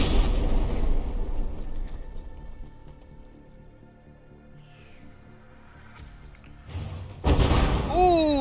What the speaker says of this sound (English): direct hit to that turret